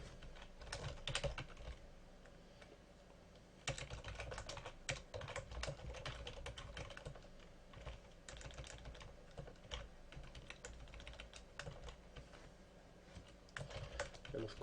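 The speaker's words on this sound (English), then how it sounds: "I'm already going to type in the keyword broadcast, which we will need for OSPF." Steady, quiet typing on a computer keyboard while network configuration commands are entered, a long run of soft close key clicks with brief pauses, heard alone at low level.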